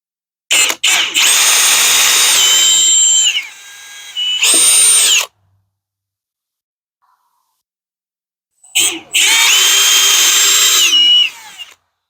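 Power drill driving screws to mount brackets for a Koolspot porch shade into a porch beam: two loud, close bursts of whining motor with rising and falling pitch, a short pause, then a third burst after several seconds of silence.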